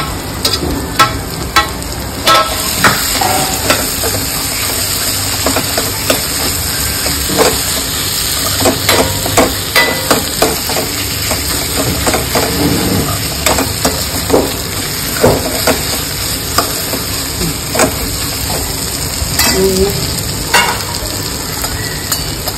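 A ground masala paste sizzles as it goes into hot oil with shevla vegetable in a pan. The frying hiss is steady and close, with frequent sharp clicks and scrapes from stirring.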